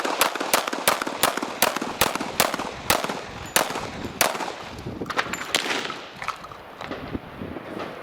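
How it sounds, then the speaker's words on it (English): A Smith & Wesson M&P45 pistol fires a rapid string of about fifteen loud, sharp gunshots in quick, slightly uneven succession, each crack followed by a short ringing echo outdoors. "I'm going to do some shooting in now."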